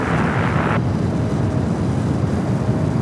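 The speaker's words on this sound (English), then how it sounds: "China Southern, the 777-300ER, the flight coming from Guangzhou, now making its way into the alleyway between the Terminal 4 and Tom Bradley" A China Southern Boeing 777-300ER jet taxiing at LAX between terminals, a steady broad roar of engines at a distance, with a brief brighter hiss fading after the first moment.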